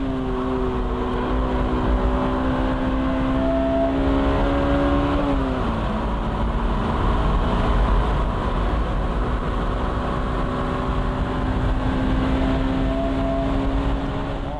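A Honda NSX Type R pulls hard on a track, its engine note climbing steadily. One brief dip marks a gear change, then the strong, continuous drone rises again.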